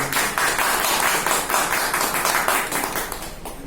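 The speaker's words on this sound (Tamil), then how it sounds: "பாராட்டி பலத்த கைத்தட்டு" An audience at a Tamil devotional talk claps together in a dense, steady round of applause, with the loose rhythmic pulses of many hands heard close and full throughout.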